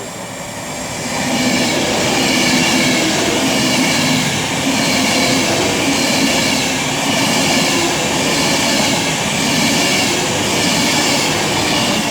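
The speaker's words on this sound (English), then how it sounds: "As 35258 and 101 also get ready to depart with their service to Crewe" Trains 35258 and 101 pulling out of Milton Keynes Central on the West Coast Main Line, a steady loud rumble of rolling stock with faint wheel squeal and rail clatter building after a quiet start and holding throughout.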